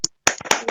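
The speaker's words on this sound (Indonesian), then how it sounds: "Tepuk tangan." Hands clapping in a classroom after a correct answer, a few sharp, close claps in quick succession, separated by a short silence.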